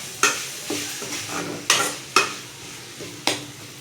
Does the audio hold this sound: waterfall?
no